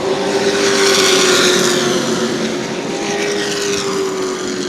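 Sportsman race cars racing at New Smyrna Speedway, a loud roaring pack of engines sweeping past with a steady droning pitch that slowly eases off as the cars move along the track.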